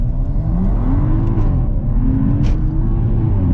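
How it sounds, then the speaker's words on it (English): A 430HP BMW M135i launching from a standstill, its engine roaring loud and close as revs climb through rising pitch sweeps with a brief shift dip. "if you want to launch it, I'm gonna do a launch"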